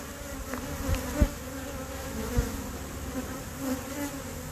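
Honey bees buzzing around a hive, a steady close drone with individual bees passing by, and a few soft knocks.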